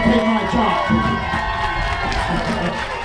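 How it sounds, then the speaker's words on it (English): A crowd at a Pride event claps and cheers for a kid dancing, with continuous lively clapping, shouts and overlapping voices close by. "It's a group of gay people clapping a kid dancing."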